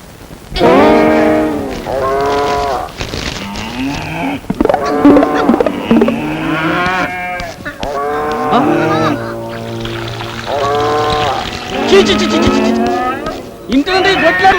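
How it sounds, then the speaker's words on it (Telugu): Buffalo mooing erupts from a pressed scent spray bottle, with several long, loud, deep lowing calls repeating one after another and overlapping throughout, close and dominant over faint background noise. "సెంటు నొక్కుతుంటే బర్రెల సౌండ్ వస్తుంది?"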